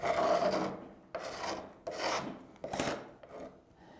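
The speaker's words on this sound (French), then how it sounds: "on arrive à enlever la peinture dans tous les genres de surfaces avec ce type de râtoir-là" A paint scraper stripping paint from wood moulding, four rough rasping strokes about half a second to a second long each, close and fairly even in rhythm, with no talking.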